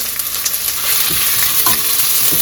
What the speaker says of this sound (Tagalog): So there we put garlic and onion. We just saute it with an olive oil.